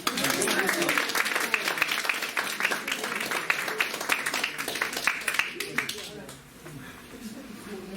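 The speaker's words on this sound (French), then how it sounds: "Mais on vous applaudit." A room full of people applauds at a local community forum in Val d'Orge, dense steady clapping that fades out near the end while voices rise underneath.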